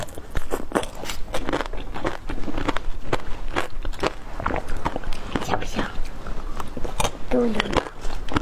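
Someone bites into a strawberry Basque cream cake topped with candied strawberry skewers, close, crisp crunches and soft chewing in a quick series, with a soft voice in the background.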